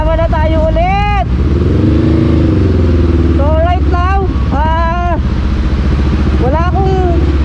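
A motorcycle engine idles and revs under loud, excited talk from several people, its low rumble constant throughout while voices dominate over it.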